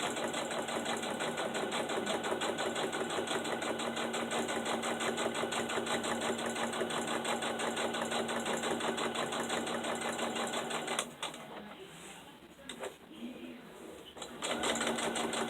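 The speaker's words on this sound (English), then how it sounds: "We're just going to stitch all the way around this book." A sewing machine stitches steadily around the edge of a fabric children's book, a continuous fast mechanical whir with rapid needle ticks that briefly drops and pauses near the end before resuming.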